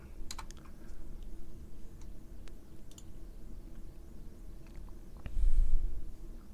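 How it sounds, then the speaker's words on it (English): Keyboard typing in quick, uneven bursts of clicks, fairly close, over a constant background rumble with a short louder swell near the end. "Can't type."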